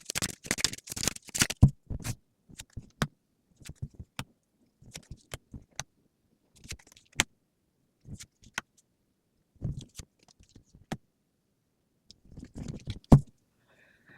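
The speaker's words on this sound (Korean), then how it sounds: "카드 뽑아서 살펴보겠습니다" Tarot cards being shuffled and drawn by hand: a dense burst of quick riffling at the start, then scattered crisp flicks and slaps of single cards, close and clear with no talking.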